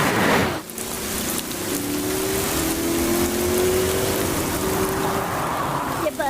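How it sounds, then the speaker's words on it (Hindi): Heavy rain pours steadily and loudly throughout, a dense broadband hiss with a faint low engine hum running underneath; no voices. "एक तो आज बारिश भी बहुत तेज है"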